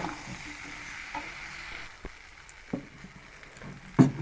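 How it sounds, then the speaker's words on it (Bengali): Fried soybean chunks are stirred into a cooked-down spice masala in a pan, giving a soft bubbling sizzle with scraping stirs and a sharper clatter near the end, close and moderately loud, with no voices. "এখন সোয়াবিনটা ভাজা আছে, এবার ঢেলে দেবো, দিয়ে আবারও কষিয়ে নেব।"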